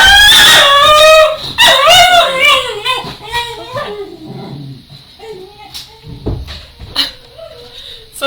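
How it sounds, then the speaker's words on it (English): A dog on guard after the doorbell rings howls loudly and close at first, then breaks into whimpers and short yips and barks that fade over several seconds, with some voice mixed in. "There's the dog."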